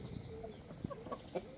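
A Leghorn hen called Bacon clucks softly in a backyard flock, giving a few short, faint calls close by with no talk.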